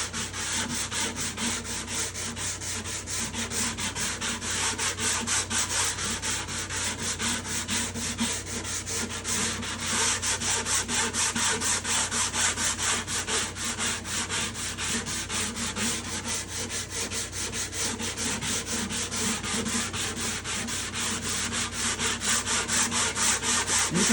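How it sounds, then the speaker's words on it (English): Steady, hard hand sanding of wood on a probe piece, a continuous close-up rasping scrape with a rhythmic back-and-forth stroke throughout, loud and alone with no talk. "You can see I'm sanding pretty hard here."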